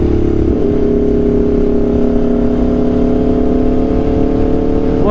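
An Aprilia RSV4 motorcycle with an SC-Project CRT exhaust drones loudly and steadily while riding, its engine note holding a strong even pitch throughout with a slight rise at the end.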